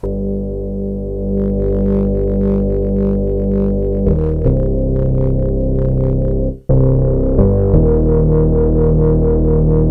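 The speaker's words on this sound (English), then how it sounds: "Maybe let's add some distortion to that." A sustained Waldorf Blofeld synthesizer chord with a gritty distortion effect, changing pitch a couple of times and cutting out briefly before resuming, loud and close.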